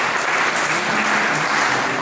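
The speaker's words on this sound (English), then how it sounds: "Clap for yourselves." Sustained, dense applause from students and support staff at a school cultural day, steady and loud throughout with no gaps.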